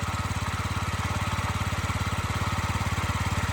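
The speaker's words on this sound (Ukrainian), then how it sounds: "Плавніше працює двигун без такої вібрації і шустріший якийсь прийом, прийомістіший він." A Yamaha Jog SA57 fuel-injected scooter engine runs steadily close by, a continuous even low putter with a fast regular pulse and no pauses or speech.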